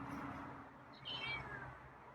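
A feral cat gives a couple of short, fairly faint meows, nearby but soft, over a quiet indoor background with no talking.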